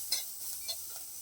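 Onions go into a wok (kadai) to fry, giving a faint, brief sizzle with a couple of soft stirring scrapes.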